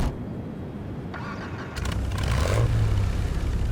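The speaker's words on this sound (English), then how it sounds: "I really can't stress how great this car sounds" A car engine in GTA Online starts up and settles into a steady, close idle rumble after a quieter opening stretch.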